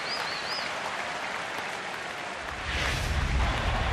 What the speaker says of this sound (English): Now the Phillies fans applauding the effort of Vance Worley.